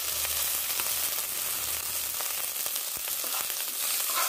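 Silkworm pupae fry together with half-cooked onions in a hot pan, a close, continuous crackling sizzle with light stirring scrapes.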